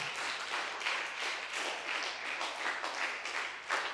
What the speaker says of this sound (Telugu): గట్టి చప్పట్లు కూడా తెలుస్తుంది